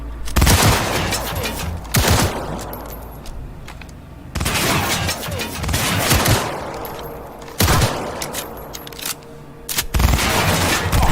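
Bursts of enemy automatic gunfire in the video game Cyberpunk 2077, dense and loud, coming in rapid volleys with sharp cracks and short gaps throughout, heavy low rumble underneath.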